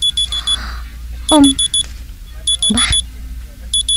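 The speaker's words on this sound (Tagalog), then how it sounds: "Ang alarm ko gali. Nag-alarm na." A phone alarm rings in quick bursts of four bright electronic beeps, repeating several times at close range, while someone speaks briefly between the bursts.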